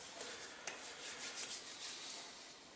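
Hands wet with disinfectant rub together in a steady, close, soft swishing friction that continues without pause.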